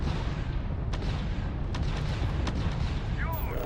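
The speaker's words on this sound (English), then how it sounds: "Really don't like these auto-firing weapons." Auto-firing weapons shooting in the video game Starfield, a dense, continuous rumbling barrage with a few sharper cracks, heavy and steady throughout.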